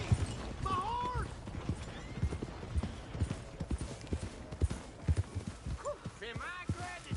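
Video game hooves clip-clop in a quick galloping rhythm with a horse whinnying, under a voice talking over the top.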